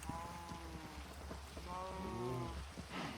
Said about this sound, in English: It's raining, so there could be monsters about,